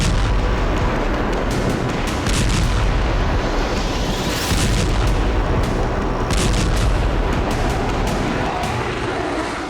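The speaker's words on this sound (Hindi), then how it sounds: "दाहिया की चिया सहित कई इलाकों पर इजरायल ने बमबारी की।" Israeli bombing of areas in Dahiyeh, Beirut: loud, continuous rumbling blasts and booms layered over a dense, roaring background.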